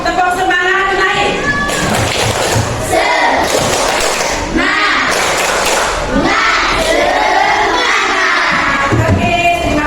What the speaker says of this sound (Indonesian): Mari lihat kita tepuk semangat terlebih dahulu sebelum kita melakukan pembelajaran.